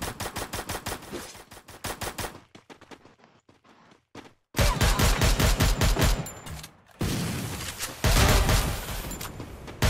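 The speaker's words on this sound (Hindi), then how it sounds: "ये मिसाइल कौन मार रहा" Rapid automatic gunfire and heavy bursts of shooting from the Free Fire Max battle royale game, loud and dense, with a brief quieter gap before the firing resumes even harder.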